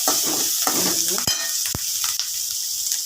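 Ginger garlic paste sizzles loudly in a hot pan for shark curry, a bright continuous hiss broken by a few sharp clinks and scrapes of a spoon stirring close by.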